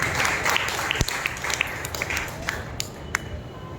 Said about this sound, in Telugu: బిగ్గరగా చప్పట్లు కొట్టి ప్రభువును మహిమపరచాలి